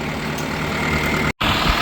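A tractor engine runs steadily at idle on a hay farm, a loud, even diesel rumble with no talk, broken only by a split-second dropout near the end.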